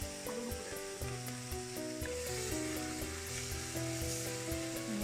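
Purslane greens and turmeric frying in a pan in a home kitchen, giving a steady, soft sizzle that stays under prominent melodic background music throughout.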